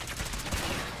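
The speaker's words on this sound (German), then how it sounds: "ich schieße ja voll daneben" Muffled bursts of rapid gunfire in the Fallout 4 video game, fairly quiet and brief, with a few sharp shots in quick succession.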